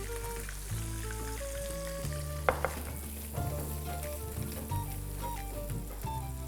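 Onions fry to a medium light brown in a pan for a surmai fish curry, a soft, continuous sizzle with occasional light pops heard faintly beneath background music.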